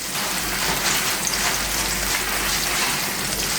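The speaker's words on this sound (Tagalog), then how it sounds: "So, ayan, kumukulo na." A pot of foraged forest mushrooms boiling on a stove with two spoons of salt, giving a steady, dense bubbling hiss close up with no talk.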